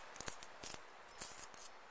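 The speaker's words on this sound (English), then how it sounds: "Just hold the knife and pull it." Knife pulled through a palmetto leaf while preparing strips for basket weaving, a few quick, faint scraping and slicing strokes in a quiet setting.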